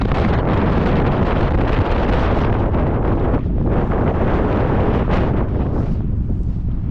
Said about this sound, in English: The wind has definitely picked up quite a lot and it's quite cold now.